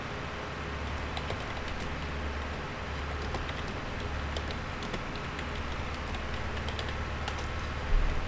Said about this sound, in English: It's annoying I have to keep typing.